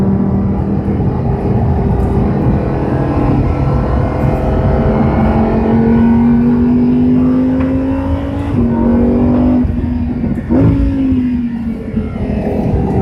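A race car at Monticello drones steadily and loud throughout, engine pitch rising gradually as it accelerates on track, with a brief shift-like dip near the end; no talking.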